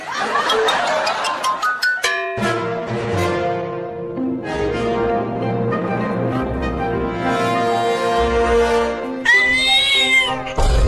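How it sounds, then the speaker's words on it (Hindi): A small cat meows in short high cries amid busy music and background sounds, with a brief burst of laughter-like noise. "वो छोटी बिल्ली अभी अभी बोली"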